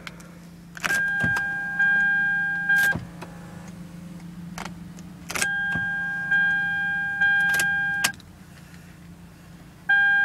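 A 2006 Lexus RX 400 Hybrid at a dealership gives sharp clicks and a series of bright electronic chime tones that repeat several times over a low steady hum, close and fairly loud, with no talking.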